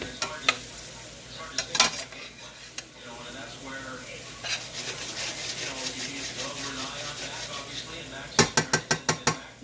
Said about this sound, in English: So you can see that butter coming alive.